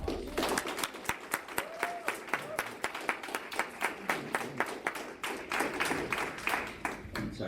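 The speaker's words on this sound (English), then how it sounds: "let's just give them a really good round of applause" Applause at a meeting, dominated by a few nearby people clapping in a fairly steady, pulsing rhythm with distinct sharp claps over a thinner crowd, and some voices faintly in the background.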